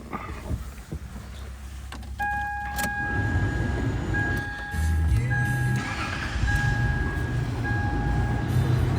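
A Toyota Tacoma Double Cab TRD Off Road pickup starting: chimes and a brief crank, then the engine catches and idles steadily, with faint talking under it.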